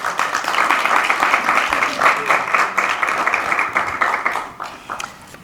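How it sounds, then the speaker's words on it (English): Applause from a summit audience, steady dense clapping that holds for about four seconds before thinning out at the end, with a faint voice mixed in underneath. "please join me in giving them a warm round of applause"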